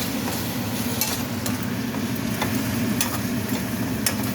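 Breakfast frying in a pan with garlic and onion, a steady close sizzle with repeated scraping stirs and occasional light utensil clicks against the pan.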